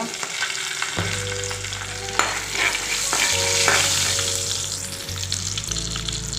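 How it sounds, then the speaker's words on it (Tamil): Dried red chillies crackle in hot oil as turmeric and asafoetida powder go in for a raw mango pachadi, a steady close sizzle with occasional stirring scrapes and no talking. "காஞ்ச மிளகா நல்லா சவுண்டுச்சுன்னா இப்போ கொஞ்சமாக மஞ்சள் தூள் சேர்த்துக்கலாம் பெருங்காயத்தூள் கொஞ்சம் சேர்த்துக்கோங்க"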